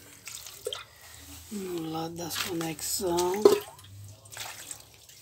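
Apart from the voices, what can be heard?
water poured over a motherboard to wash it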